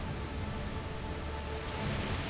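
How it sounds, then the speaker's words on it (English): Rainstorm in the video game A Plague Tale: Requiem, heard as a steady, dense hiss of heavy rain that stays even and fairly loud throughout, with no voices. "The rain is getting worse. It's just a storm."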